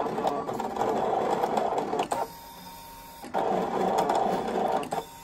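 Brother Scan N Cut 2 cutting machine drawing with a foil quill, a steady mechanical whir with rapid stepping chatter, pausing briefly twice before resuming, close and alone.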